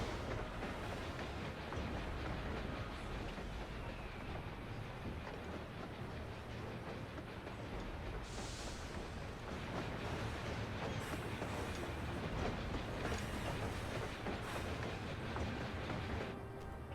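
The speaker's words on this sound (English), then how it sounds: "let's put this train through her paces" A video-game train runs steadily on its rails for the whole stretch, a dense continuous rumble with rhythmic clickety-clack of wheels, loud and close, with no voices over it.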